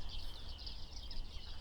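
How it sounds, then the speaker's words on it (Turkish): Bearded reedlings give a continuous chatter of high, thin pinging calls in a reedbed, faint and somewhat distant, layered over low background rumble. "Bıyıklı baştan karalar. Çok şımarık bir kuş türüdür bunlar."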